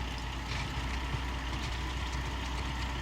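A truck engine in the game Gold Rush idles with a steady, close, low rumble that stays even and continuous throughout, with no voices over it.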